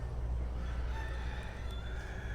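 Chickens cluck and a rooster crows in an outdoor yard near mulberry trees, the calls moderately distant over steady low background rumble.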